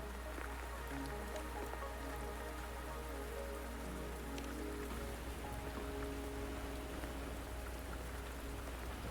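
Steady rain falls in the video game Wuthering Waves, a dense, even patter that continues without a break and with no voices.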